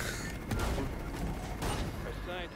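Gunfire in a video game, a dense burst of rapid shots and booms filling the short clip, loud and continuous, under faint overlapping voices.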